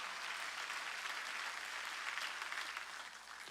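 Applause from a church congregation during a Sunday sermon, a steady dense wash of many hands clapping throughout, fading slightly toward the end, with no talking over it.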